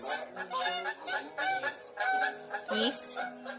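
Geese honk repeatedly in an overlapping, rhythmic chorus, fairly close and steady throughout with no talking.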